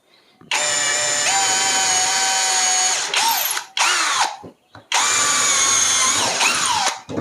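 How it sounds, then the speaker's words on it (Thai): An imax cordless drill bores into thick hardwood in loud, close bursts of whining motor, with pitch dips as the bit bites, short pauses between runs and a final restart. "เจาะง่ายมากเลยครับ คือแรงมันแรงมันเหลือๆนะครับ"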